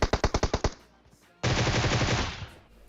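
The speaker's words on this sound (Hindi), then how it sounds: "अब ये लोग हल्की फुल्की फायरिंग करते हैं यार" PUBG Mobile gunfire: a quick burst of about seven sharp automatic shots, a short pause, then a sustained loud stream of rapid fire that fades at the end.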